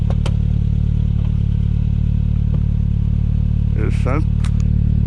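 Polaris Slingshot SL engine drones at a steady, loud low pitch while driving, with brief voices and a clatter over it.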